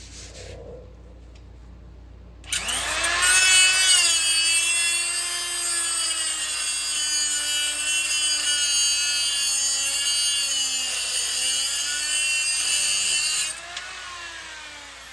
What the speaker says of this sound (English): But I've got to grind all of these out and punch those through.